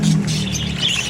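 A pet bird kept for breeding, calling up close in a short burst of chirps and squawks over a steady low hum, with no voices.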